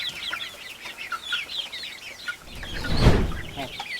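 A Rhode Island Red rooster clucks repeatedly in short, close bursts, with a louder rustling thump near the end.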